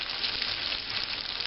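Breakfast food frying in a pan with a splash of water added, giving a steady, even hiss and sizzle up close that runs unbroken throughout, with no talking.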